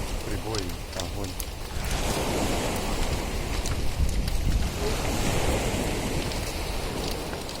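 Sea surf breaks on a shore at night, a broad roaring wash that swells and holds loud, with wind and a brief voice near the start.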